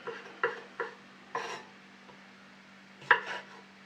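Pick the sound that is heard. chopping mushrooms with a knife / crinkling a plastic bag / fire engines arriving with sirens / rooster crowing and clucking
chopping mushrooms with a knife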